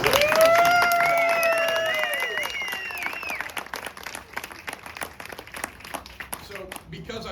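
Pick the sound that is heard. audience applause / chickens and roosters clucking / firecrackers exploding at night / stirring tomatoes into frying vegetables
audience applause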